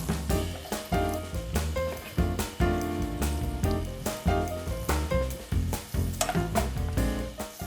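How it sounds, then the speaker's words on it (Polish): Meat and onion fry in a hot pan, a loud close sizzle broken by repeated stirring scrapes and clatters in an uneven rhythm. "Mięso pięknie nam się przesmaża. Dodam cebulę."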